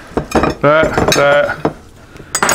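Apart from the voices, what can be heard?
putting frozen Salisbury steak patties into a Pyrex dish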